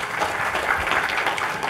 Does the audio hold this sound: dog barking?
no